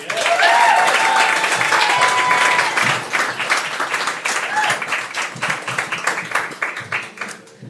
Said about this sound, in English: A big round of applause for Christopher Moncayo-Torres.